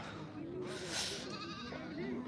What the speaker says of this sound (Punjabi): ਬਾਈਆਂ ਨੇ ਬੱਕਰੀਆਂ ਮੋਟਰਸਾਈਕਲ ਤੇ ਲਿਆਂਦੀਆਂ ਨੇ